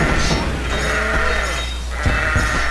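Sheep bleats ring out amid a busy Kingdom Rush game soundscape with a steady low hum and scattered impact sounds.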